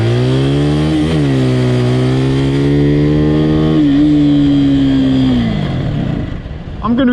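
A motorcycle engine on a first ride on cold tires wails loud and close, holding a high strained revving pitch near redline for several seconds with small surges, then dropping off and easing down at the end.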